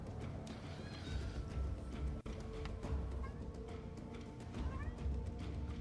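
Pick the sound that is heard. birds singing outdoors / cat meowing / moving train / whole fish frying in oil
cat meowing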